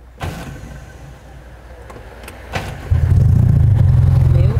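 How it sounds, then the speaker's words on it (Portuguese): A Porsche's electric power window motor whirs steadily as the glass is lowered, loud and close inside the car, following a few clicks and bumps. "vou abaixar o vidro aqui pra entrar"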